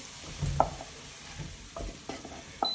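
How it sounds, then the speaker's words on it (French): Fried potatoes for a Spanish tortilla are tipped into a metal colander over a bowl, with a faint oily sizzle and a few light clinks and knocks spread over the pour. "Et on verse nos pommes de terre"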